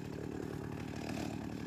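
A warmed-up Soviet-made 1978 chainsaw runs steadily at a constant idle-like drone, loud and close, with no voices.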